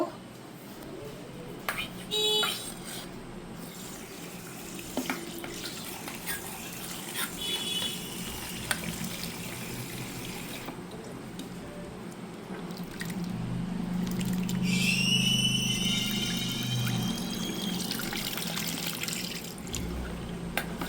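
Cut potatoes are rinsed under running tap water, with a steady flow and irregular splashes and drips as the pieces are handled, growing fuller and louder partway through.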